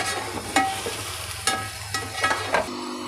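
Garlic, ginger and green chilli paste with meat frying in hot oil for a white biryani, giving a steady sizzle with several louder stirring scrapes and clatters, close and without talk.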